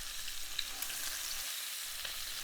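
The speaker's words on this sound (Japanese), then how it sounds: "油も筋もよくブレゼしてしまえば美味しいので、ここは掃除せずにそのままできる限り表面を焼いていきます。" Lamb shank, left untrimmed of fat and sinew, sears in a pan with a steady, dense sizzle that holds even throughout, with a few faint pops and no talk.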